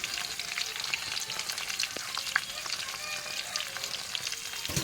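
Olives dropped into hot oil for a sweet, sour and spicy olive pickle, a soft, continuous sizzle with faint crackles and pops, heard alone at low level.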